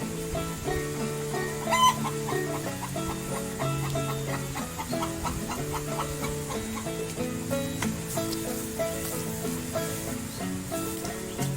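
Chickens cluck on a mixed organic farm near a small rice mill, repeated clucks and calls layered over one another in a steady, moderately close chorus.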